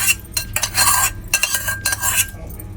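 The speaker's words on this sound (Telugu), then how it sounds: "పోపు పెట్టుకునేసి ఇంక జస్ట్ డైరెక్ట్గా అట్లా వేసుకోవాలి" A spoon stirs and scrapes hot tempering into peanut chutney in a bowl, quick bursts of metallic clinks and wet scraping repeated several times, close and fairly loud, with no voices.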